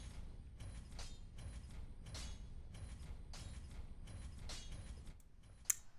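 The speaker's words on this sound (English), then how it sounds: "wait for the second elevator to come up, and ride that one all the way down to the Titanite slab." Elevator descending in Dark Souls 3, a steady mechanical creaking and grinding rumble with rhythmic clanks, ending in a sharp metallic clunk.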